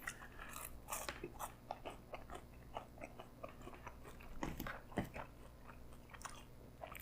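Sweet and sour beef being eaten up close, with repeated crunchy bites and moist chewing in an irregular rhythm and no talking.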